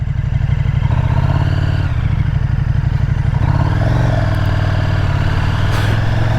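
A KTM 1290 Super Duke R motorcycle engine rumbles loud and near, a deep throbbing idle that swells and shifts pitch as the throttle is blipped, no voices over it.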